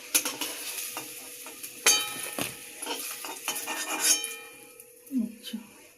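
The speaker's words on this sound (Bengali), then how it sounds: "এবার বেগুন কটা আমি তুলে নেব।" Fried eggplant slices are lifted out of a frying pan, with a series of close, sharp metal clinks and scrapes against the pan and a faint sizzle in between.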